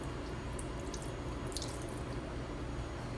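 Clean water poured over a commercial griddle drains off in a faint, continuous hissing trickle. Light splashy flecks rise briefly near the middle.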